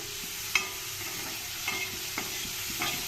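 Cauliflower florets frying with garam masala in hot oil, a soft steady sizzle with a few sharp clinks and scrapes of a spoon stirring against the pan, close and alone without talk.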